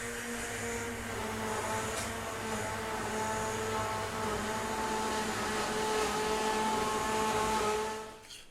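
A food blender purées sweet potato soup with a steady, loud motor whine and churning for about eight seconds, then winds down at the end.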